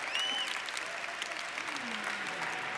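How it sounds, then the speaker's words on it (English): A conference audience gives a big round of applause, dense and steady clapping that fills the whole stretch, with a couple of thin whistles rising above it. "Give her a big round of applause."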